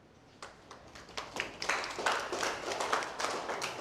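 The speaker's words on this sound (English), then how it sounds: "Why did I clap for you?" An audience at a cooking master class with a chef at Guru Nanak IHM in Kolkata breaks into hand clapping that starts sparse and builds into fuller, close applause.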